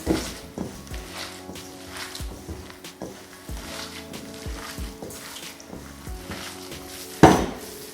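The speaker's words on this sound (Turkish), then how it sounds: "Şu şekilde bütün malzemeleri birbirine yedireceğim." Cypriot köfte mixture being kneaded and mixed by hand in a bowl, giving soft, irregular squelching and rustling with occasional light knocks against the bowl, close and fairly quiet.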